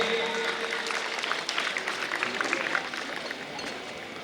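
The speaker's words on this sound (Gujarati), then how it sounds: "તાળીથી તો વધાવી શકીએ, તાળીથી તો એને આપી સન્માન કરી શકીએ" A school audience at a Republic Day function claps to honour gold medal winning children, a soft, fairly distant patter of applause running for a few seconds and fading toward the end.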